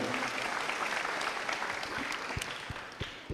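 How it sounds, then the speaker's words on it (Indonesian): Crowd applause at an outdoor campaign rally in Banjarmasin, a broad, fairly distant roar of many hands that stays steady and fades slightly near the end, with a few sharp claps near the front. "Tepuk tangan untuk kita semua."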